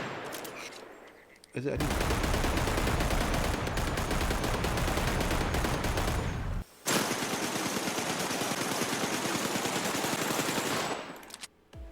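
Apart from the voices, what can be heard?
Desert Eagle pistol gunshots in video game Primal Carnage Evolution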